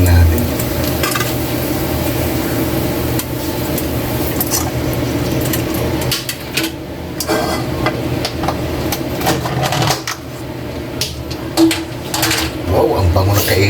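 Marinated pork for estofado sizzles loudly in a pan as it is stirred, with scraping and clattering against the pan while a person talks.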